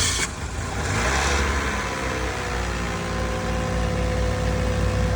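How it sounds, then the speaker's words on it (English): A 2008 Toyota Corolla engine starts with a brief cranking burst, then settles into a steady, loud idle running close by with no talk over it. "Now we're going to start the car."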